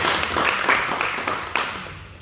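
An audience at a university event claps for a musician, a burst of scattered applause that starts full and gradually thins and fades over a couple of seconds.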